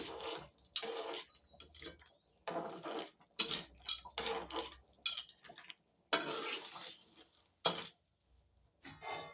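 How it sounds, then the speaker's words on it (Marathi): A spoon stirs a Malvani-style clam curry in a pot just after fresh coriander goes in, giving repeated scraping, clinking bursts of shells and metal in an uneven rhythm, close and fairly loud, with no talking. "कोथंबीर घालते मी ढवळून घेते"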